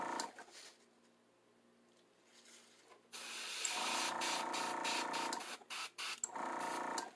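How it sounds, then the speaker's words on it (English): Bursts of hissing paint spray on a Godzilla wall hanger, some long and some short in quick succession, with a faint mechanical hum underneath; close and fairly quiet. "Just spritz and spray in the cracks just a little bit."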